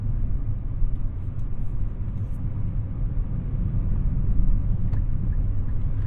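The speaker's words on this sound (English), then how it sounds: "We'll just go for a lap around the block in valet mode." A 2024 Nissan Z in valet mode drives around a block, heard from inside as a steady, loud low engine and road rumble with no clear revving, and no speech.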